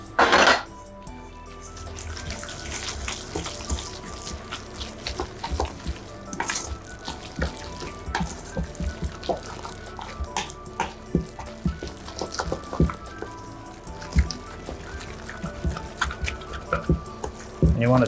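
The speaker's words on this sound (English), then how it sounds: "you want to just stir it till all that flour is combined, making sure there's no lumps" Egg, milk and flour batter stirred in a bowl with a utensil, a long run of close clattering taps and scrapes against the bowl, irregular and continuous, with some faint background kitchen noise.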